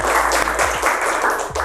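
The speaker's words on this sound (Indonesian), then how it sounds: "Wih, tepuk tangan dong." A talk show studio audience claps briefly and briskly, the applause mixed with low, steady tones in the background.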